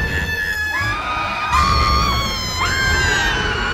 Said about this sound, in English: She still couldn't stop screaming after she made her way out.